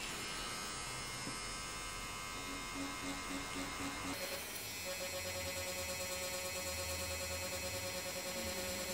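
A DragonHawk Mast Archer wireless tattoo machine runs with a steady electric buzz and faint tonal hum. The pitch shifts partway through and the machine keeps droning close and fairly quietly, with no talking.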